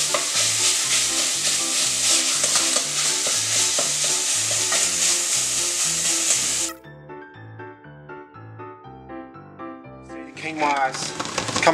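Beef mince sizzles loudly in a hot pan while it is stirred, giving a bright, steady frying hiss with rhythmic scraping. The sizzle cuts out partway through and leaves quieter clinks, then the hiss briefly returns.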